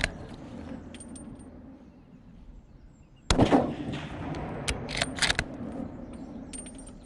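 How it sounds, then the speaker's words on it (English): A single sharp, loud rifle crack about midway through a black bear hunt on an island, followed by scattered rattling and handling clatter, with no talking. "Shoot him again."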